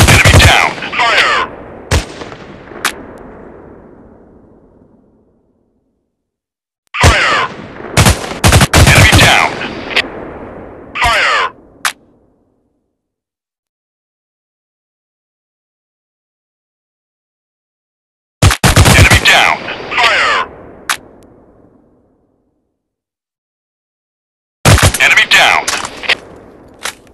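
Rapid automatic gunfire from a mobile FPS shooter on Android, arriving in loud bursts of sharp cracks with reverberant tails, separated by stretches of total silence.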